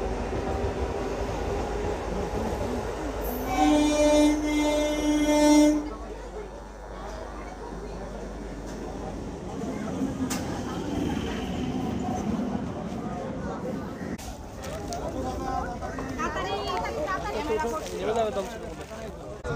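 A Sealdah–Katwa local train pulls into platform 1 at Dum Dum station with a low rumbling roll and a brief tonal horn-like burst early on, while people talk nearby over the train noise.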